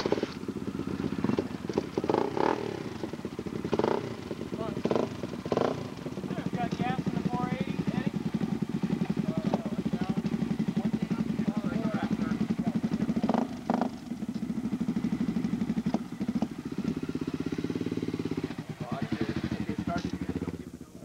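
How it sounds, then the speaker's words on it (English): A motorbike engine, recorded in Kelso Valley in January 1995, runs steadily throughout with a low continuous rumble and some clatter, while people talk over it. "What I'm doing here is starting the bike"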